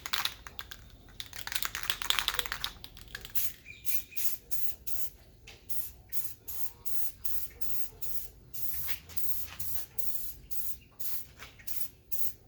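Red paint is sprayed onto a homemade 2x72 belt sander for knife making, starting with a long hissing burst and then many short rhythmic spray bursts, close and steady.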